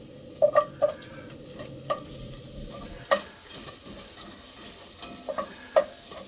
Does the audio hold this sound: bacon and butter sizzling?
yes